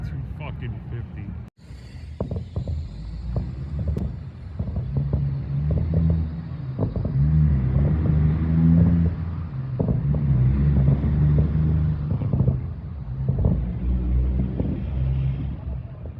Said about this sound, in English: Whoever you are, sir, thanks for having such a loud truck.